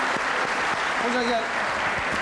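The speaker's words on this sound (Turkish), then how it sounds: "Alkışlıyoruz ve teşekkür ediyorum." Studio audience applause on a 1998 Turkish television talk show, steady dense clapping throughout, with a voice speaking briefly over it.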